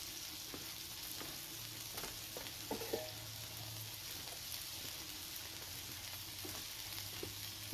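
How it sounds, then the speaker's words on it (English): Smashburgers cook on a grill in their own grease with a steady, dense hiss of sizzling fat, a few faint clicks and a brief scrape partway through, no voices. "Let the grease do this job. Watch the burgers start to cook here."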